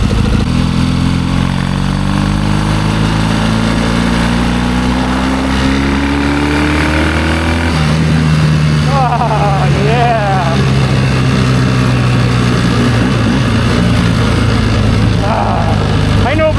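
A 1972 Triumph 650 Bonneville motorcycle roars past up close, its loud engine note rising through the gears, then dropping in pitch as it passes and fades down the road.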